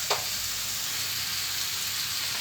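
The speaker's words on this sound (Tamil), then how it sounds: "இப்போ இது கொஞ்சம் வதக்கி வரட்டும்." Hot oil sizzling steadily in a pan while chilli chicken is being prepared, a close, continuous frying hiss with a faint stirring scrape near the start and no voices.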